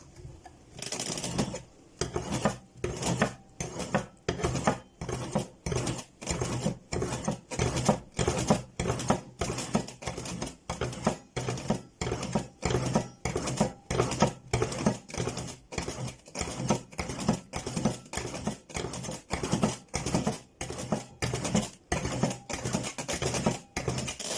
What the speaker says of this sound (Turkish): kupamızı dik olarak sürtüyoruz. Tek yönlü olarak.